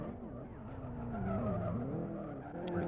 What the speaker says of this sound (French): c'est Pintola pardon qui était en glisse totale là